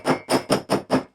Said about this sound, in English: We use a hammer.